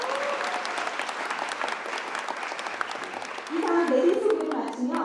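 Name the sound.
audience applause at a ceremony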